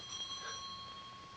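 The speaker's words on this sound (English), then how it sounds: "Answer the bell." A doorbell in a 1940 gaslit London house rings with a steady, sustained metallic tone, fairly faint and held throughout with no speech over it.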